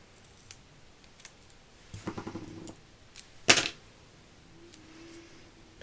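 Scissors snip through double-sided foam tape in a few quiet, separate cuts, with one sharp, louder snip near the end and small handling clicks around them, close and alone.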